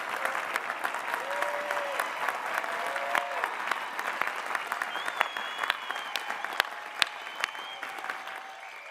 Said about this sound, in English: Let's give all of our graduates from our graduate programs a hearty round of